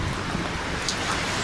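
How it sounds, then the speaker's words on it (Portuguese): Heavy rain falls in Nazareth, Israel, heard from under a shop awning as a dense, constant hiss of downpour, loud and unbroken, with no talk. "tá aqui a chuva aqui pra vocês aqui"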